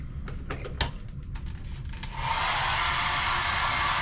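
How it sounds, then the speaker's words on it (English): A cruise ship cabin's hair dryer clicks and rattles as it is handled, then switches on at about two seconds and keeps running with a steady close whooshing roar. "And there is a hair dryer in this one here."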